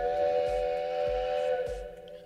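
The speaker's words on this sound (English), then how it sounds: "I've got a sound effect that's called whistle." A sustained, harmonic whistle tone holds steady like a steam train whistle, with low rhythmic thumps underneath, fading slightly at the end.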